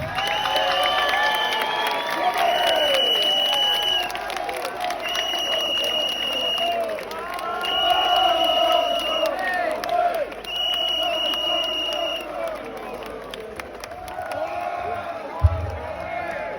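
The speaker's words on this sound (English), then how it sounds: "let's have a round of applause for Tommy Robinson" A rally crowd for Tommy Robinson applauds and cheers at length, a dense wash of clapping with whoops and shouts rising and falling, and a sharp thump near the end.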